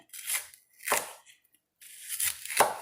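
A knife chops onions and peppers on a cutting board, giving a few sharp, close cuts in short bursts separated by brief pauses.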